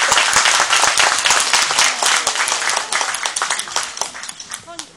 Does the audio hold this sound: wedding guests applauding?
yes